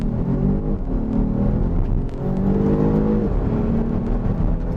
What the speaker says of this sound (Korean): 가속을 할 때 모터가 함께 돌아가는, 그 모터가 윙 돌아가는 소리가 함께 들리네요